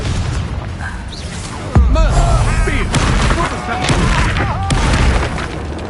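A Confringo spell explosion going off in Hogwarts Legacy during a fight with Rookwood, a sharp, loud boom that lands under constant game dialogue and battle noise.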